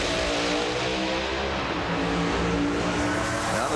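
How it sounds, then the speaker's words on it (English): Pro Modified drag race cars roar down the strip at the Gator Nationals, a loud, sustained engine blare that holds steady throughout with no voices. "that's just a good old drag race there"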